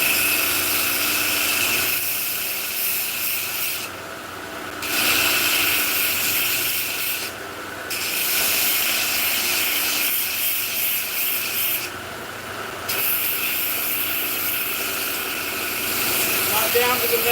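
A grinding wheel runs steadily while a knife handle is finished against it, a constant rasping whir with the sanding contact cutting in and out in short gaps, a voice talking faintly underneath.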